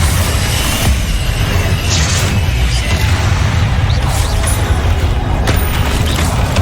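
Spell explosions in the video game Hogwarts Legacy come as loud, dense, rumbling blasts and crackling bursts. They layer into a continuous roar with sharper pops and mechanical clatter on top.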